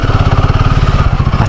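Motorcycle engine idling close by while the bike is wheeled indoors, a loud, even, rapid putter with a steady pulsing beat.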